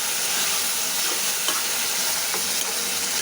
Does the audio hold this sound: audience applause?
no